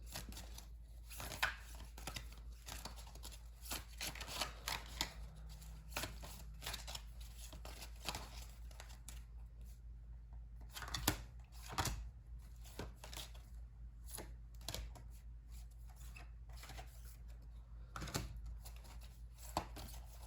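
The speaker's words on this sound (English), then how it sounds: "I'm gonna draw some more cards." Oracle cards being drawn and handled from a deck, soft intermittent card flicks and shuffling taps, faint and close, with no talking.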